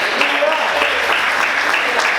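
Church congregation applauding during an evening sermon, a dense, steady wash of clapping that fills the whole moment at close range with no break.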